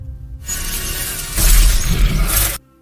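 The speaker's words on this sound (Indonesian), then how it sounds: "Sementara tulangnya hancur terinjak oleh kaki T-Rex." A loud crunching shatter as a T-Rex foot crushes bone in a Jurassic World film, a sustained crackling break that swells heavier halfway through, then cuts off abruptly.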